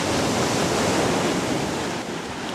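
Broadband roar of ocean surf, waves rolling in continuously and loud at close range, the kind a beginner surfer paddles through on a foam board.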